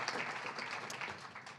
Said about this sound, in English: maybe we give a big round of applause to Volha for that travel and for joining us.